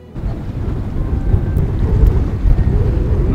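Strong wind buffeting a sailboat at sea on a crossing to Sicily, Italy: a steady, loud low roar of gusts and rushing air with water noise, continuous and unbroken, with no voices.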